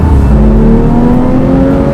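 A Porsche 911 engine revving loudly and close, a deep steady roar with a rising drone that holds throughout, no voices.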